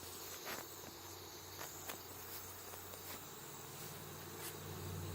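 Honey bees work inside an opened hive box, a dense, steady buzzing hum close by, with occasional light knocks of frames, no talk.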